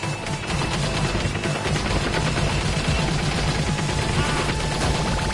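Dense, rapid bursts of gunfire in the PSVR game Operation Warcade rattle continuously, a loud unbroken barrage with layered shots over a noisy background.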